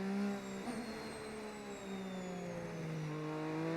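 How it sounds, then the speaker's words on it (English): Retro-era V6 Formula 1 car engine in the racing game F1 25, holding a steady high whine through gear changes with pitch sliding slowly downward and tire noise beneath, fairly quiet and continuous. "This is a V6 engine we're using right now."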